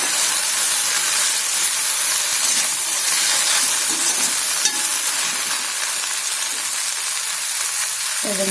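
Okra (ladies finger) cooks in a pan with a steady, close sizzle and hiss throughout, with occasional stirring clinks near the end.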